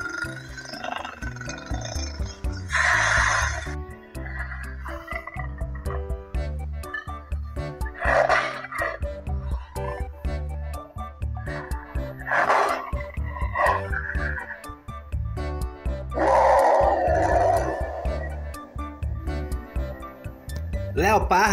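Leopards give repeated rasping, sawing roars and grunts in rough bursts, loud and close over about twenty seconds, with breathy pauses between calls.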